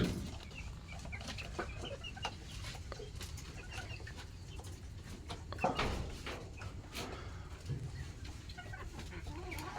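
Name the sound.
chickens clucking on a poultry farm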